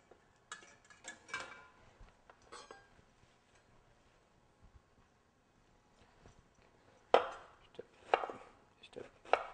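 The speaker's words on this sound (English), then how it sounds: "Just a bit of red onion. It's looking nice, finely diced." Knife finely dicing red onion on a cutting board, a few scattered bursts of quick chops with long quiet gaps, then a louder run of crisp close strikes near the end.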